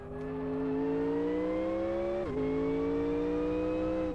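A fictional modded car engine in the Live for Speed racing game holds a steady, loud drone while climbing slowly in pitch, dips briefly at a gear change, then keeps rising smoothly, with no voices over it.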